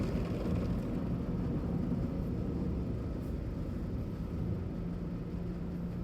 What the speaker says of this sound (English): Scrubbers going.